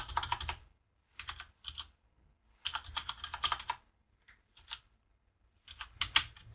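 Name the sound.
typing code on a computer keyboard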